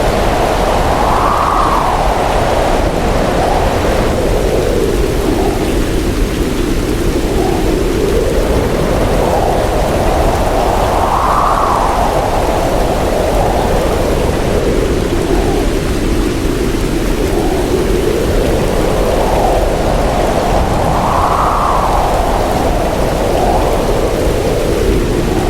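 Heavy rain and storm from Typhoon Krathon in Taiwan: a dense, constant roar that swells and eases in slow waves, loud and unbroken throughout with no voices.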